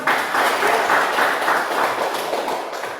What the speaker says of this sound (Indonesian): Berikan aplaus untuk kedua teman.